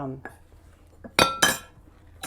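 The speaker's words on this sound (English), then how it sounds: "I know it seems dry, but just keep stirring, keep adding, keep combining." Gingerbread biscotti dough stirred in a bowl, with a few sharp clinks and scrapes of utensil against the dish, spaced irregularly and heard close up.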